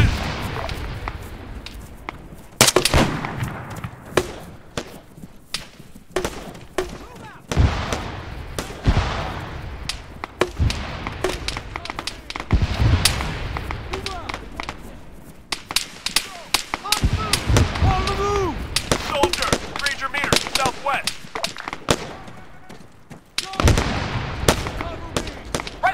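Military gunfire in a tactical infantry battle, sharp cracks of rifle shots in irregular bursts, some near and loud, others farther off, continuing steadily with occasional heavier thumps.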